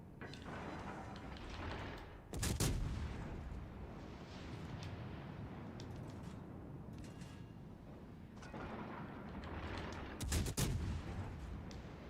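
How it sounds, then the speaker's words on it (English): Heavy naval guns fire broadside in World of Warships Legends, two booming salvos several seconds apart over a constant engine and sea rumble. "I see that Fiji firing broadside, I'm gonna shoot him."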